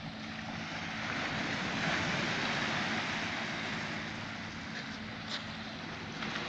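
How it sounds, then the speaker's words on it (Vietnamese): Sea waves wash onto an island shore at night, a steady broadband roar of surf that swells and eases continuously, fairly loud and close, with no voices. "Các bạn nghe tiếng sóng"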